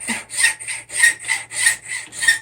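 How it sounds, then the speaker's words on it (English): Hacksaw with a metal blade sawing through a wooden hammer handle, with steady back-and-forth strokes in a regular rhythm, about four full strokes, close and clear with no talking. "This hacksaw, it has a metal blade in it."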